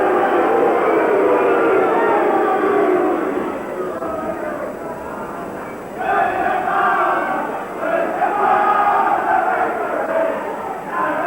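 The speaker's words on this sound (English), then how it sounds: "you can hear what the crowd think of that decision" A large soccer stadium crowd roars continuously after a referee's decision, swelling and dipping in loud waves of jeers and shouts that fill the whole stretch.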